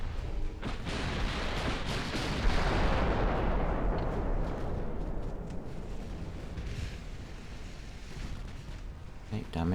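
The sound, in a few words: warship secondary guns firing in Ultimate Admiral: Dreadnoughts video game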